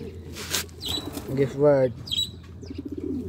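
A racing pigeon flapping its wings in a few brief flurries close by, with soft bird calls and a voice speaking between the flaps.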